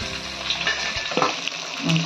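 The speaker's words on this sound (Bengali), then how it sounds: "এই যে মাছের মাথাগুলো ভেজে এই যে কালারগুলো এরকম আসবে" Katla fish heads fry in hot oil in a wok, a close, continuous crackling sizzle with light scraping as they are turned.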